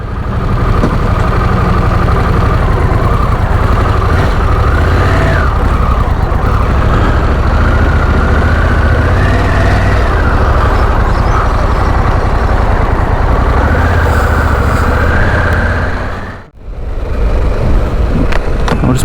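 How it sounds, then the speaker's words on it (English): A Harley-Davidson Pan America 1250 V-twin motorcycle running on the road, a loud steady engine drone mixed with heavy wind rush, rising and falling with throttle, broken by one brief dip near the end. "V-twin, much different to mine, which is a 1100 parallel twin."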